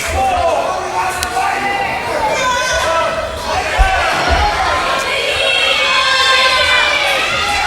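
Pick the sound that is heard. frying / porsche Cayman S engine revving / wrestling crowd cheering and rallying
wrestling crowd cheering and rallying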